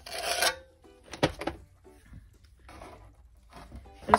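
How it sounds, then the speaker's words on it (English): A trowel scrapes tile adhesive in one direction while a mosaic background is being prepped, giving a few short rasping strokes close by with quiet gaps between them. "how important it is to scrape in one direction when you are applying anything with a trowel"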